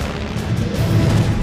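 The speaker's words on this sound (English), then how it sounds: "He fires a burst into the British plane." A burst of machine-gun fire from a WWI German triplane: dense, rumbling crackle and booms over a constant engine drone, close and loud, with no talk.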